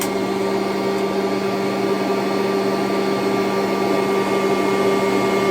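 A Kirby G4, Sentria, Heritage 1 or Ultimate G Diamond Edition upright vacuum cleaner runs loud and steady with a constant motor whine, with no pauses or talk.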